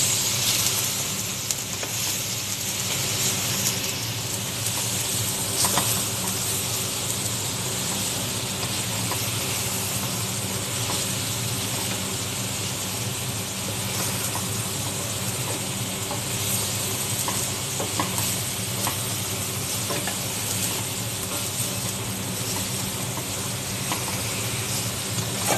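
Tomato paste sizzling in a hot pan while being stirred, a continuous loud frying hiss with occasional soft scraping of the spoon, steady throughout and without any talking.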